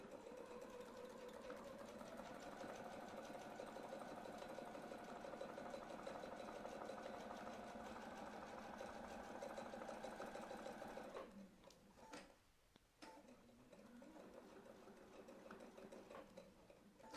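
Sewing around a template on a domestic machine produces a long, even motor hum with fine ticking stitches, a brief pause and a couple of clicks, then the stitching resumes at a steady pace.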